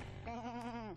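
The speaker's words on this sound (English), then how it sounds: "Is that a sheep?" A single sheep bleat in the game Jazzpunk, one short wavering baa about a second long, clear and close against quiet background.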